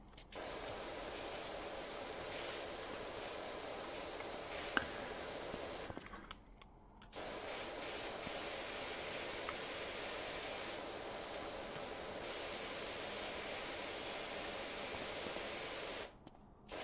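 Steady broadband hiss of a pressure washer spraying paint off surfaces in PowerWash Simulator, running continuously with two brief cutoffs when the trigger is released, fairly loud and close with no talking.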